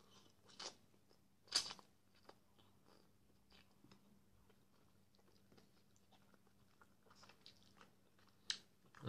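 Close crunchy chewing and biting of beef-flavored Doshirak instant noodles with broth, soft intermittent bites and smacks over a quiet low hum, loud crunches near the start and end.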